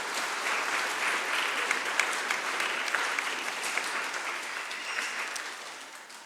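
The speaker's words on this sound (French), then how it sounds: "vous pouvez vous applaudir vous-même là" A church congregation at a Sunday Mass claps steadily for several seconds, a dense even applause filling the space and slowly fading toward the end.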